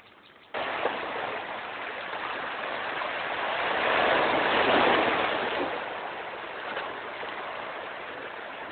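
Sea waves wash steadily against the shore beside an old fortress, a continuous broadband roar that swells to a louder surge mid-way and then eases back, with no voices.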